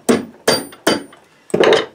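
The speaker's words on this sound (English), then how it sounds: "Then I get my hammer. And, you know, just tap it across." A hammer taps a 3/16 metal rod held in a homemade bending tool, four sharp knocks at roughly even spacing, close and loud with no talk.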